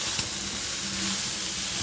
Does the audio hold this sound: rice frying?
yes